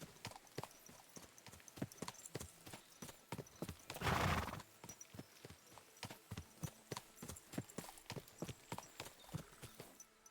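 A horse in Kingdom Come: Deliverance 2 trots with close, regular hoofbeats throughout, broken midway by one loud, breathy whinny before the clopping carries on.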